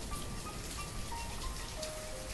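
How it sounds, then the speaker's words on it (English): Steady rain falling in the video game Banished, a continuous even hiss of drops on surfaces with no breaks, moderately loud and alone. "Does the rain fall faster? No. Rain falls about the same speed."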